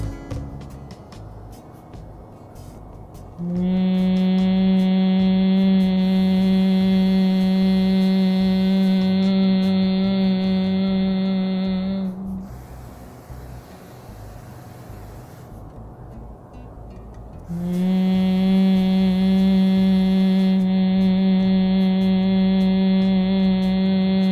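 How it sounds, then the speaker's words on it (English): Humming bee breath in a fertility yoga demonstration: two long, steady voiced hums on a low pitch with a bright harmonic buzz, each lasting about nine seconds, separated by a quiet inhale, close and alone. "exhale through your mouth, making the humming bee noise"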